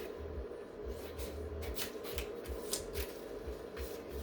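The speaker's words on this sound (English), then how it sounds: "I can cut this excess off" Scissors snip excess fabric from sublimated silky socks in a quick, regular series of close, crisp cuts.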